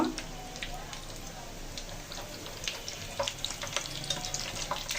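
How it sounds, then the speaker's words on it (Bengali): Egg and noodle chops frying gently in oil give a faint, steady crackling sizzle with scattered pops, heard quietly and close throughout. "এভাবে আস্তে আস্তে ভাজবেন মুসমুস করে।"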